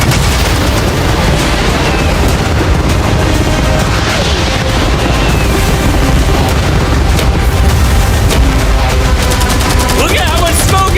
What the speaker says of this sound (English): I want you to launch cannons, fireworks, arrows, catapults, everything at the same time.